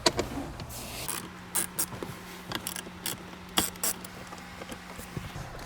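Mechanical clicks and ratcheting taps from a tool loosening 10mm bolts in the dashboard of a Lexus LC 500, irregular short bursts close by over a low steady hum, with no talking.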